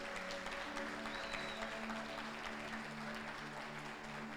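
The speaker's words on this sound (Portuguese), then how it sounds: "Vamos aplaudir Jesus mais uma vez?" Congregation applauding in a church service, a steady wash of clapping at moderate level with a sustained musical tone underneath throughout.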